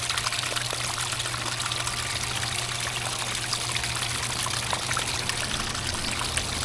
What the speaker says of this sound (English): We have the water here and the fountain